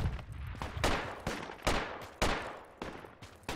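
Gunfire in the Project Reality military shooter, a rapid series of loud, close cracks in uneven bursts, each followed by a short echoing decay.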